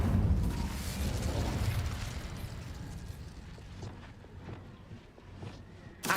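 A fire spell cast in Hogwarts Legacy: a loud whooshing, rumbling burst at the start that fades into lower crackling and mechanical game noise, with a small pop near the end.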